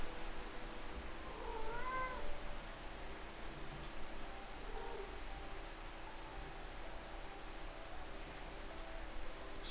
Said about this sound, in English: Sounds like I summoned my cat.